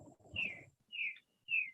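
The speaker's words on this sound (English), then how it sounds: "it's a bird singing." Bird singing outdoors, three clear descending whistled notes spaced about half a second apart, faint and somewhat distant, with a trace of low murmur under the first note.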